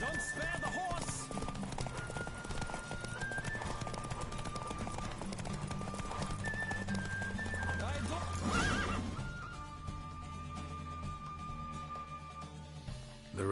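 Hooves clip-clop at a fast gallop in a horse race in The Witcher 3, with repeated neighs and whinnies over a steady game music bed, loud and continuous throughout.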